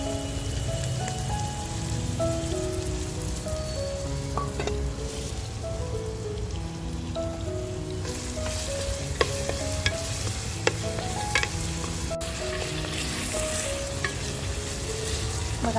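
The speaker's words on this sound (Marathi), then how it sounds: "तर कांदा जो कापून घेतलाय तो कांदा टाकून घेते" Chopped onion fries in hot oil on a village-style wood-fired stove, giving a continuous close crackling sizzle with sharp stirring clicks and faint tonal sounds in the background.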